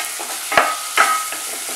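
Chopped onions sauté in olive oil with finely chopped ginger and garlic, giving a steady close sizzle broken by a few sharp spatula scrapes and stirs.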